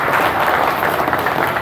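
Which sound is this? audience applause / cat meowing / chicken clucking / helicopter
audience applause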